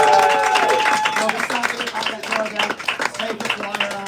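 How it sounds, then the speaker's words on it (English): Audience applause and scattered clapping at a live comedy show at the Edinburgh Fringe, a steady burst of clapping mixed with voices and cheering from the crowd across the whole stretch. "Okay, give a round of applause."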